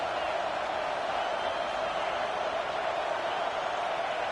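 Stadium crowd noise in a college football video game, Michigan versus Duke, forms a steady, dense roar that holds at an even level throughout without breaks.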